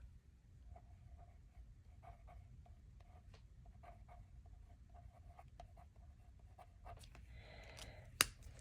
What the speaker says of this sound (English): And then I can sign my name.